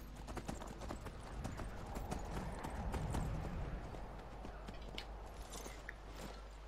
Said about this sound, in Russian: Офигенный конь.